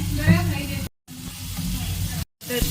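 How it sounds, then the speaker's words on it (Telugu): Mushrooms sizzle and hiss as they are stir-fried in a pan, a steady close frying sound broken by two short silent gaps, with a voice talking over the start. "మనం ఇందులో మష్రూమ్స్ యాడ్ చేసేసుకొని కొద్దిగా దూరగా అనేది వేయించుకుంటూ ఉండాలి"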